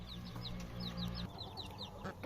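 Repeated soft chirping calls over a low, steady hum that cuts out halfway, with faint clucking from a weak, sick Aseel hen in the background.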